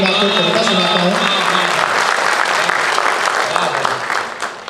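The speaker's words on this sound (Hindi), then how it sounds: "आप अपनी संस्था के लिए एक बार जोरदार तालियां बजाइए" An audience at a Hindi comic poetry gathering (kavi sammelan) in Navi Mumbai claps loudly and steadily for the organizing society, a dense crowd sound with a voice briefly over it early on, easing off near the end.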